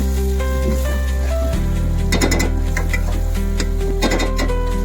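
A paste of ground dried coconut and poppy seeds with curry leaves is stirred in a pan for Telangana-style chicken curry, giving a few rough scraping strokes over a steady electrical hum.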